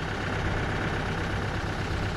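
A tractor engine pulls a heavy disc harrow through soft, sandy ground with a loud, continuous, dense rumble that holds steady throughout.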